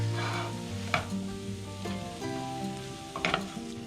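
Shrimp thoran, a coconut shrimp stir fry, sizzles softly in a pan as it is stirred, with a steady frying hiss broken by a few sharp scrapes and clinks of the spoon.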